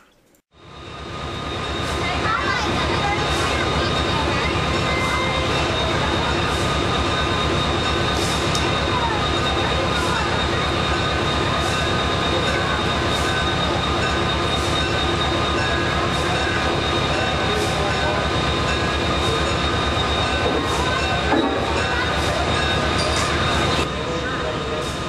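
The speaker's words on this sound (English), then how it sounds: "Alco T641, built in 1959, will pull the short consist down to the NS connection" A 1959 Alco T641 diesel locomotive pulls a short train, its engine and rolling wheels a loud, steady rumble throughout with faint clicks of rail joints and a brief squeal near the end.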